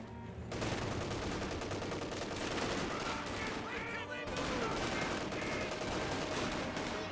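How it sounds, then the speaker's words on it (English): Sniper rifle fire in Company of Heroes 2 during a battle at a street intersection, loud sharp reports among dense, continuous combat noise with overlapping gunfire throughout. "Sniper firing away against the intersection"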